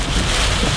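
Strong wind gust roaring past the microphone during a Florida storm, a steady, loud broadband rush with buffeting that holds throughout the brief moment.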